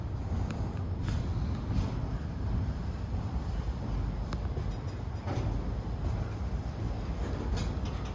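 A long Norfolk Southern intermodal freight train rumbles past steadily, a constant low roar with faint rhythmic clatter of wheels, sustained throughout and fairly close, heard from an overhead bridge.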